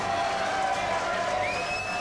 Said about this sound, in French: Applaudissements pour Coralie Collier,